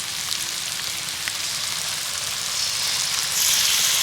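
A snack mixture cooks in a pan with tomato sauce, giving a steady soft sizzle that swells slightly louder toward the end, with occasional light scrapes of stirring.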